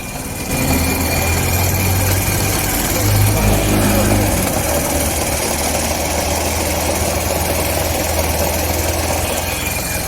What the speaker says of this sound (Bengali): এই বাইকের প্রবলেম ইঞ্জিনের মধ্যে গড়গড় গড়গড় সাউন্ড।